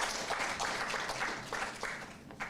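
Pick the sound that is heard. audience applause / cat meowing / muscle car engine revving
audience applause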